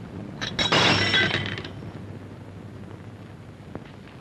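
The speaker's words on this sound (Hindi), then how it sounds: "ये प्याले कैसे टूट गई?" Teacups breaking: a sharp crash and shatter of crockery early on, loud and brief, then faint scattered clinks and a low background hum.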